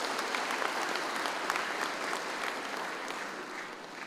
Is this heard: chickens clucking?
no